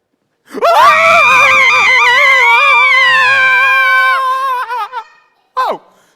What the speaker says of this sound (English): Oh, it's not a screaming competition.